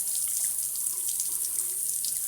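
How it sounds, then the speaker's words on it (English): Water from a kitchen faucet with a clogged, hard-water-scaled aerator sprays and splatters steadily into a sink, a continuous hissy, close rush with no pauses. "how to fix your water faucet that is splattering water like this"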